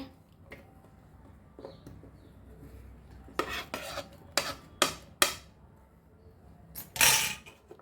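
Chopped onion tipped into a pan while cooking masoor dal, a few scraping rasps and clinks of utensil on metal, then a louder sizzling clatter near the end, with quiet gaps between.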